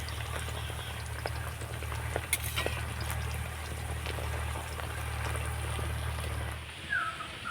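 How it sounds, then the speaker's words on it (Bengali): Layered flour nimki frying slowly in oil over low heat give a steady, soft crackle and bubbling, with a constant low hum underneath that cuts off near the end. "নিমকিনগুলোকে ভেজে নিতে হবে খুব বেশি আঁচ করে ভাজার দরকার নেই হালকা আঁচ দিয়ে ভেজে নিতে হবে"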